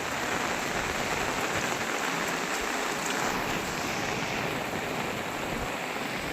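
Floodwater rushing through a swollen river in a village makes a loud, steady roar of broadband noise that continues unbroken from start to end, with no voices.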